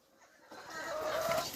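A rooster clucks and squawks close by after a brief quiet moment, its rising call loud and throaty.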